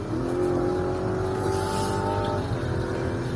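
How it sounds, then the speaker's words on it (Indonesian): A Mazda CX-60 hybrid SUV engine revs up, a rising mechanical drone that swells and then drops off, heard clearly from inside the cabin with no talking. "Suara mesinnya kedengeran banget."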